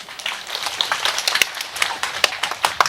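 Scattered hand claps from a small audience, irregular and sparse, a few sharp nearby claps standing out over a low murmur of room noise.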